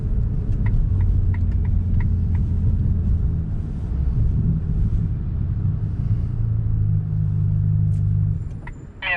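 A Ferrari Roma's engine rumbles low and steady while driving through city streets near the Eiffel Tower, a constant close drone with a few faint clicks and a brief high squeak near the end.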